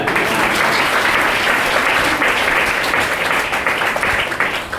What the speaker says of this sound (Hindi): इनके लिए भाई मेरे तरफ से एक ताली हो जाए।